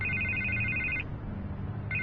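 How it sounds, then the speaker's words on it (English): A telephone rings in a Batman Telltale Series scene with a steady electronic warble. One long ring is followed by a pause and the start of the next, over a low background hum. "I can't get the phone to stop ringing."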